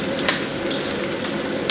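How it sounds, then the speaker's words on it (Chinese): Ginger frying in hot oil in a wok for spicy lamb spine, a dense, steady sizzle with a couple of sharp utensil scrapes, close and loud for a brief moment. "咱们把这个姜给它下里边，先给它简单煸炒一下"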